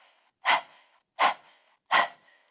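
Three sharp, evenly spaced forceful breaths from a yoga breath-of-fire exercise, close and distinct, with quiet gaps between them.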